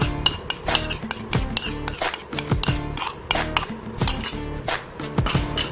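Shami kabab beef mince is stirred together with fresh coriander and a beaten egg, giving quick, rhythmic clinks and scrapes against a bowl, close and without talk.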